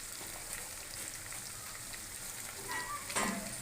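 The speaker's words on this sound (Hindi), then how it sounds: "हाफ टी स्पून में ज़ीरा ऐड करने लगा हूँ" Cumin seeds sizzling in leftover hot cooking oil while making mutton karahi, a faint, steady crackle throughout that swells briefly near the end.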